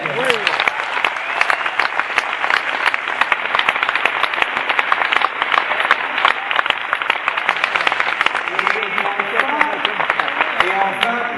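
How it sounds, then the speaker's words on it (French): An awards ceremony audience applauds an honoured American film director, loud dense clapping throughout with crowd murmurs and voices rising near the end. "Merci d'applaudir Jerry Schatzberg"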